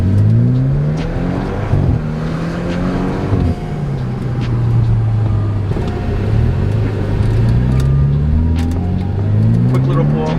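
A BMW sedan accelerates hard in manual paddle-shift mode, its engine note climbing in repeated rising sweeps as it pulls through the gears, loud and close from inside the cabin, with someone speaking over parts of the run.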